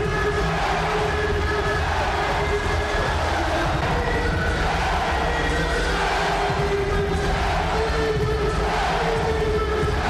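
A packed boxing arena crowd roars continuously during a fighter's ring walk featuring a live music performance, a dense, loud and steady wall of cheering with no break.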